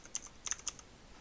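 Python code is typed on a computer keyboard in a short burst of light, close key clicks with uneven spacing, and no talking.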